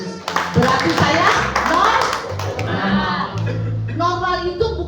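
A church congregation claps their hands during a worship service, with clapping mixed with loud speech and voices throughout.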